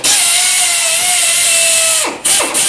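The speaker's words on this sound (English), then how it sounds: "Jen's just going to drill a couple little pilot holes here." A power drill bores small pilot holes for mounting TeraFlex rock sliders, its motor whining loud and close for about two seconds before winding down, then a brief second burst.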